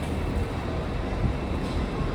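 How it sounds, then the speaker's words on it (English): Train at Leeds station bound for London King's Cross, a steady low rumble and hum of the idling train on the platform, close and continuous over station ambience. "This is the train I'm getting down to London."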